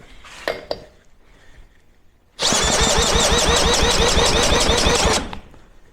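A 2002 Tohatsu 5hp outboard engine is cranked for a compression test. After a few light metallic clinks, a loud, rapid, rhythmic cranking chug runs close by for about three seconds, then stops abruptly.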